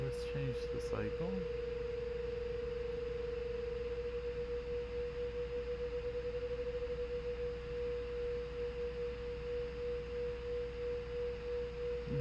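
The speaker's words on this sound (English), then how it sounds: "It's two sine waves" Two sine waves one point apart in frequency, generated in Max 8, hum on and on, loudness slowly swelling and fading in a regular beating pulse; a few faint sounds at the start.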